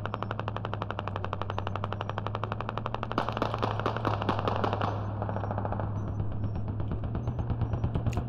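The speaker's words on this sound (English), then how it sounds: "I hear some kind of 50 to our west." Sustained heavy machine gun fire in the Squad video game (Middle East Escalation mod), a long rapid unbroken stream of shots, loud and close with a low rumble beneath, continuing for over eight seconds without talk.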